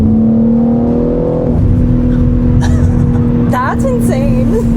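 Tuned car pulling hard under full throttle in fourth gear from about 4,000 RPM, a loud steady engine drone rising in pitch, with voices and faint chirps over it near the end.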